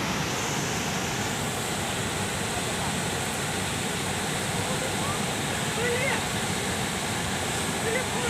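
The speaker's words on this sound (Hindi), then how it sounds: "पानी देखो और पानी की धार देखो।" Aharbal waterfall in Kulgam, Kashmir, sends a steady, dense roar of rushing water that fills the scene without pause, loud and close.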